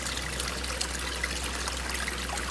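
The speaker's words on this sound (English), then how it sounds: "Made a little waterfall." Small waterfall trickling over rocks that have dammed a stream in a ravine, a steady close babble of running water with no talking.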